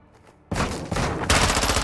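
Gunfire in the Call of Duty Modern Warfare 2 campaign, a sudden loud fusillade of rapid shots after a quiet start, continuing dense and intensifying to the end.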